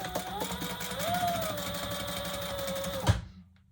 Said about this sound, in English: I'm just going to stitch down each side.